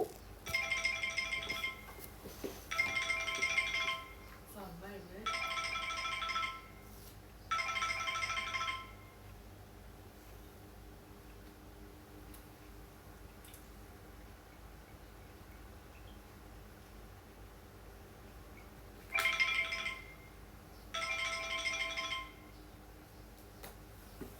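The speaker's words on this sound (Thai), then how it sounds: "พอดีเมื่อกี้มีเสียงโทรศัพท์เข้ามา" A mobile phone ringtone rings out in short repeated bursts of bright chiming tones, four near the start and two more after a long pause, fairly faint over a quiet room.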